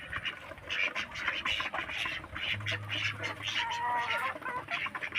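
Ducks quack repeatedly nearby in a lively, overlapping chorus, with a low steady hum underneath.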